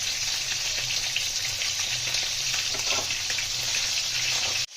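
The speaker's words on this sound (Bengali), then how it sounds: "তেলটা গরম হয়ে এসছে, গরম মশলা ফোড়নে দিয়ে দেবো। গোটা গরম মশলা, তেজপাতা, এলাচ আর জিরে।" Whole garam masala, bay leaf, cardamom and cumin sizzle in hot oil as a tempering for a katla fish kaliya, a loud, steady, close frying hiss that runs unbroken before cutting off abruptly.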